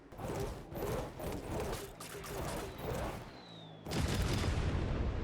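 Bomb explosions in the video game Trailmakers go off as a dense run of heavy booming blasts and crackling debris, with a brief lull before one more loud, sustained burst near the end.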